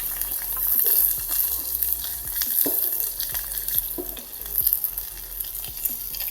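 Cloves, cinnamon, leaves and onion fry in hot oil for masala rice, giving a steady, close crackling sizzle broken by the scrapes and clinks of a spoon stirring the pan.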